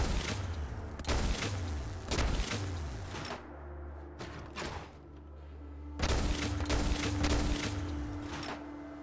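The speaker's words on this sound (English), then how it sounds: "This heavy gun shoots some electric shocks." A modded Tesla Cannon heavy gun in Fallout 4 fires electric shocks, producing several loud, booming crackling blasts separated by brief pauses, each with a fading, sizzling tail.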